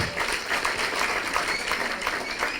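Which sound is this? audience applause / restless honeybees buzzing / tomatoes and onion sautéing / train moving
audience applause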